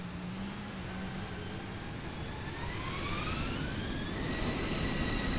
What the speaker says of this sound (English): Let's see if we can take off with the remainder of this runway.